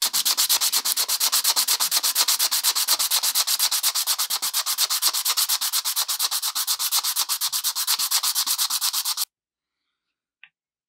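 Fast, rhythmic back-and-forth rasping as a sanding stick files down a guitar nut, a loud close strokes run steadily for about nine seconds before stopping abruptly, followed by one faint tap.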